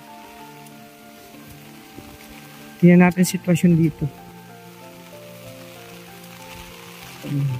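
Steady typhoon rain patters across the whole clip, with a person speaking briefly in the middle over the downpour.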